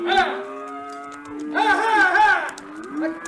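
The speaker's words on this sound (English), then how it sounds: "You see that fella coming this way herding them cows?" Cattle being herded on a farm low repeatedly in long, drawn-out moos, with two clear calls close by and a shorter one trailing off at the end, heard alone without talk.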